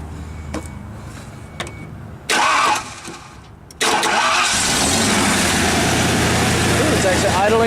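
An old OBS Ford F-150 with a faulty idle speed control valve cranks with a few short starter whirs, then catches and settles into a loud, steady, close idle.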